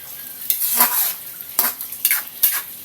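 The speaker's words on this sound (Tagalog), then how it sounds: "Simpleng ginisa lang naman ito." Simple Filipino ginisa sautéing in a pan, with a utensil stirring and scraping against the metal in several short bursts over a steady sizzle, close and fairly loud.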